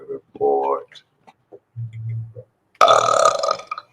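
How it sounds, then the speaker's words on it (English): A loud burp bursts out near the end, long and rasping, after some scattered faint vocal sounds and a low hum earlier. "Ooh, it's a good burp."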